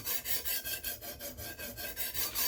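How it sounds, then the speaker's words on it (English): A knife is drawn across a sharpener in steady heel-to-tip strokes, about a dozen rhythmic rasping swipes in a close, even rhythm, with no voice present. "I'm going to do a few strokes and make sure that I got a burr on the other side"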